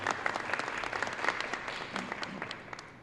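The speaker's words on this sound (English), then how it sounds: "I think they all deserve a round of applause." Audience applauding at a city school-safety press conference, a steady wash of many hands clapping at moderate distance, fairly quiet, with scattered louder claps standing out.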